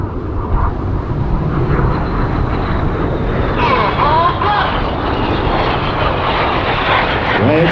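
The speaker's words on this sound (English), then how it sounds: "They have a closing speed of over 700 miles an hour, passing 100 feet apart in the Chipper Pass." Red Arrows jets passing low at high closing speed during an airshow practice, a loud, close engine roar that swells and shifts pitch mid-way as the aircraft sweep by, with a commentator talking over it.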